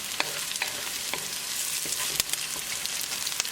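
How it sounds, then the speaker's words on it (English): Green chili sizzles in a hot tadka, a constant crackling fry dotted with sharp spatters and the occasional scrape of a stirring spoon. "Mix it and cook green chili along with tadka for half a minute"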